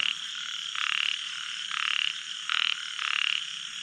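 Several tiny frogs at Challakere trill in short repeated bursts, high and buzzy, overlapping one another against a constant chorus.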